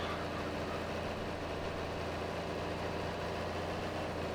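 Farming Simulator 22 tractor engine straining uphill with a 6-row planter, a continuous heavy low drone with a steady mid-range hum and no talking over it.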